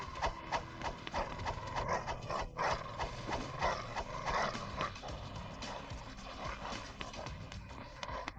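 Frantic scuffling, growling and barking of a vicious guard dog attacking a thief in a Roblox game, a busy, dense commotion without speech.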